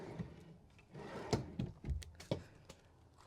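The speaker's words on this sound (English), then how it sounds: "And then a drawer down here." Wooden drawer in the bedroom of a 2025 Flagstaff family travel trailer being opened or closed, giving a few soft, close knocks and a brief sliding rumble in an otherwise quiet room.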